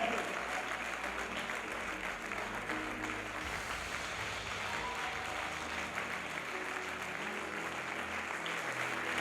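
A church congregation applauding, dense continuous clapping from many hands at a steady level throughout, with a low voice murmuring faintly underneath.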